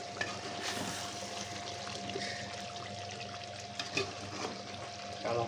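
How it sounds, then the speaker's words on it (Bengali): Meat being sautéed down in a pot gives a steady, low sizzle and bubbling that runs throughout, with a faint hum and a few soft clinks of utensils. "আমাদের গোস্ত কষানো প্রায় শেষ পর্যায়ে"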